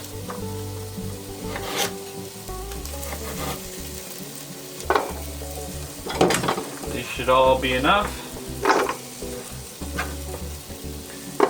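Onions and garlic sizzle and crackle steadily in a hot pan, with occasional stirring scrapes and a brief voice speaking over the frying.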